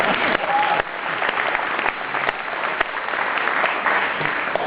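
A room full of people gives a steady, loud round of applause, dense clapping that carries on without a break and with little talk.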